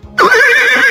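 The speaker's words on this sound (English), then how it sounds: "Horse." A horse's whinny from a children's animal-sounds puzzle game rings out loud and close after a short silent start, a sustained quavering neigh that holds for the rest of the moment.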